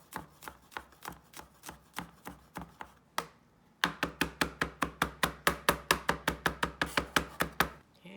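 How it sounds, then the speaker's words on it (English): A single garlic clove crushed and then minced with a knife on a board, quick close rhythmic chops that pause briefly and then resume at a faster, even pace, with no talk. "we're gonna go with 1 garlic clove, and you're gonna crush it. And then we're gonna mince it up."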